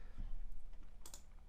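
A single computer keyboard key pressed while setting preferences in Blender, a few faint, soft clicks at close range with no talking.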